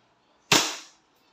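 A single sharp, loud shot from an EMG Pit Viper airsoft gun, close by, with a quick crack that decays over about half a second, isolated against near silence.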